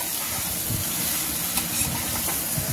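Cut bottle gourd tipped into a frying pan with lightly fried prawns hisses steadily, while soft, uneven clatters of stirring sound close by and nobody speaks.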